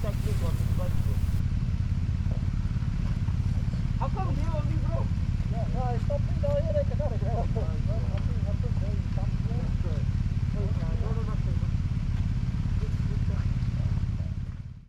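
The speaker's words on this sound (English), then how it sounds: "Picked up Manny's bike and they are ahead of us, and I've decided to be the last rider in the pack" Off-road motorcycles rumble along rough terrain in Victoria's High Country, a continuous loud engine drone with rattling and clatter on top, with no voices.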